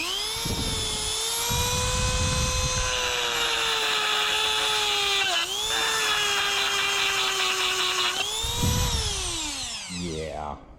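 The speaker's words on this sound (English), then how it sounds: "Dremel might not cut it, literally" A Dremel rotary tool runs steadily at high speed with a loud, sustained whine that dips briefly in pitch twice and rises again, then spins down near the end.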